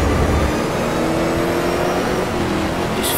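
Race car engine in the game Race 07, a loud, steady droning roar held close throughout as the car is eased through a right-hand corner, with a faint brief squeal at the end.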